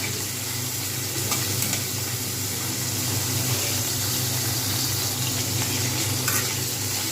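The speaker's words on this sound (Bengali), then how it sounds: "এইবার আমি এর মধ্যে পেঁয়াজগুলো দিয়ে দেবো জাস্ট আলতো হাতে একটু নেড়ে নেবো" Onions stirred gently in hot oil after a tempering for ridge gourd and potato posto, producing a dense continuous sizzle close up, with soft utensil stirring and no talking.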